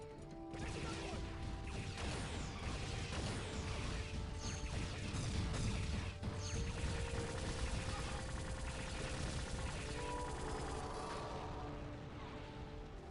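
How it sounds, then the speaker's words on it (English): Rapid bursts of weapon fire and crashing impacts from the photon launcher in the video game Elite Force, loud and continuous over a dense game soundscape, with occasional talk over it. "the photon launcher is too much fun"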